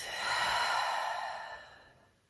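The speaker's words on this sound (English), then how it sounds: "Exhale through the mouth." One long, breathy exhale through the mouth during a pranayama breathing exercise, close and soft, rising briefly before trailing off into quiet.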